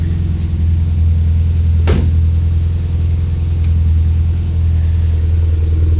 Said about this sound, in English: I'm pretty sure that if we just give it a little gas, I've got it idling really, really low